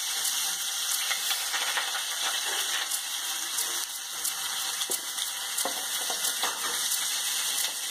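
Grated onion sizzles steadily in about two spoons of hot oil for a quick cauliflower sabzi, a dense continuous frying hiss with occasional stirring scrapes and crackles, close and alone without talk.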